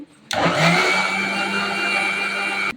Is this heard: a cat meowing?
no